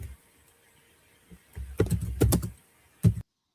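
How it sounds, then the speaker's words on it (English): Clacky typing on a computer keyboard, close and quiet, with a few isolated taps followed by a quick flurry of keystrokes and a final pair of hits before silence. "Hear me typing?"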